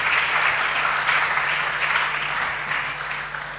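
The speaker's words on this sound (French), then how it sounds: "Je vous demande d'accompagner M. Jean-Marie Kassamba avec vos applaudissements." Steady, full applause from an audience of students at an event with the Central Bank governor, continuous dense clapping that eases slightly toward the end.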